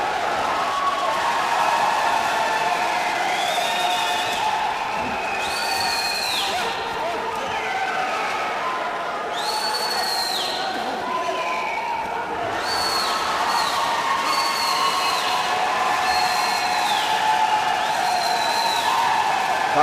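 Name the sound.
boxing crowd cheering and applauding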